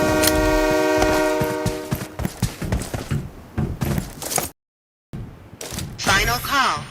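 Train horn blaring loud and sustained in a video game, holding a steady tone for about two seconds before giving way to excited talking, a brief silent gap, then more game sounds.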